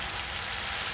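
A fish head sizzling in ginger and cumin paste in a pan, with a faint, steady hissing crackle for about a second.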